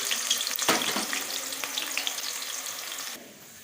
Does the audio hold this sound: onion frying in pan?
yes